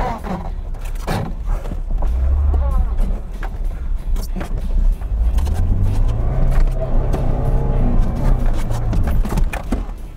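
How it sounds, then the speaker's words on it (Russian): A Lada Niva Bronto engine in low range with the differential locked labours up a steep off-road hill, its drone rising and falling in pitch as it revs under load, with voices in the background. "И теперь такой же подъем на Ниве. Блокировочка плюс понижайка."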